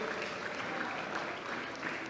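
Banquet audience applauding at a hall of fame dinner, a dense, fairly faint wash of clapping sustained throughout, with no clear speech over it.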